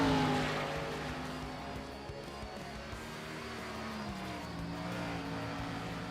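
Race cars lap the Richmond track in a racing video game. A dense, continuous engine drone holds steady throughout, with no talking over it.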